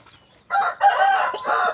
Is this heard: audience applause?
no